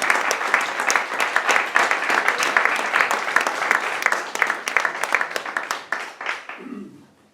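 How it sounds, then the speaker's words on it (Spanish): Audience applause for poet Manuel García Cabrera at a poetry evening, a dense steady clapping from a crowd that carries on for several seconds, then thins and fades out near the end. "Un fuerte aplauso para Manuel García Cabrera."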